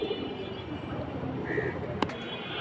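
Two aluminium-coloured male pigeons kept as loft birds coo softly in the background, faint and partly buried under someone talking and other room noise.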